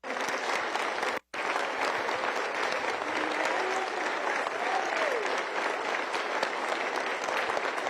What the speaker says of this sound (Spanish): Pido un fuerte aplauso a la memoria y al legado de Piedad Córdoba